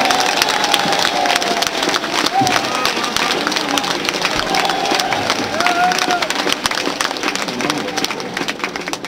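At a Hindi veer ras poetry recital, a crowd claps and cheers in sustained, loud applause that fills the hall for several seconds.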